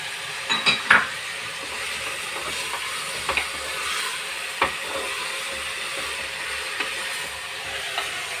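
Onions frying in a pan with tomatoes and green chilies, a steady soft sizzle broken by a few clinks of a spoon stirring against the pan near the start and scattered later.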